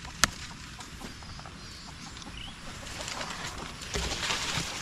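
Chickens cluck softly in the background among faint bird chatter, with a brief sharp knock near the start; outdoors on a farm, no talking.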